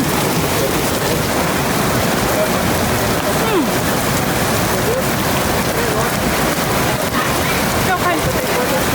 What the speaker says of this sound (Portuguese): Ainda estamos à espera que abranda um pouco a chuva